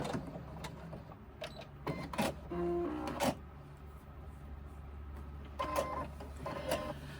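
A sewing machine stitches a crossbody bag in short mechanical bursts separated by pauses, some runs longer and louder, close by with no talk.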